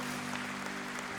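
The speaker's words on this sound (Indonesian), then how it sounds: "Kita berikan tepuk tangan buat mereka semua." Church congregation applauding during an online worship service, a steady broadband clatter of many hands filling the whole moment, with a sustained low organ or keyboard tone running underneath.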